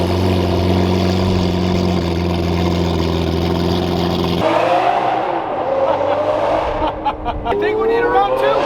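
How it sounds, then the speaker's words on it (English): A Lamborghini Aventador fitted with an FI exhaust revs hard, a loud sustained high-pitched engine note that drops off and then climbs again in rising pulls, heard close and in the open. "If you have not heard the FI exhaust on my Aventador, well, here we go."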